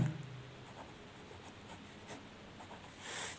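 Pen writing on paper during a maths lesson on triangles, a faint steady scratchy stroking that runs throughout, quiet and close, with a slightly louder stroke near the end and no voices.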